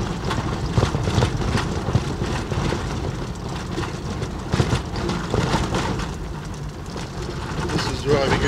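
A car drives into a day use area in the MacDonnell Ranges, its engine and road noise forming a steady rumble with wind buffeting the microphone.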